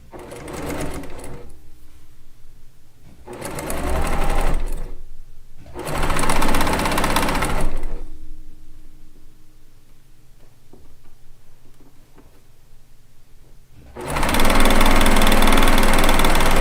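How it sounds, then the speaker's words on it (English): A sewing machine feeds fabric for a lacey log cabin quilt top in repeated bursts of fast whirring stitching, separated by pauses with a faint hum, ending in a long loud run. "I'm letting the machine feed that fabric in all on its own."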